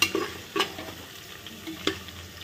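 Peanuts, cumin and crushed garlic sautéing in a pan, a faint steady sizzle with a few sharp spoon clinks against the metal, close and quiet, with no talk.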